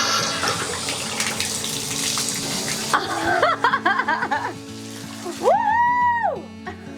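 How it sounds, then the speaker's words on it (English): Water gushes from a newly connected tap on a homestead water system, starting as a noisy rush, then turning into a fluctuating spray with bursts of excited vocal sounds, including a long whooping cheer near the end. "Will the water actually come out of this tap?"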